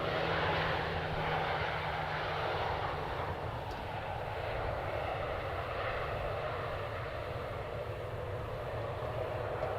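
A Boeing 737 jet roars steadily close by while landing or passing at Edmonton International Airport, a broad loud engine rumble with a faint low tonal hum that holds through the whole stretch, with no voices.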